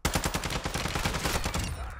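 Rapid automatic gunfire in Call of Duty Warzone 2 DMZ during an ambush in a complex: a dense run of close, loud shots in quick rhythm that fades slightly at the end.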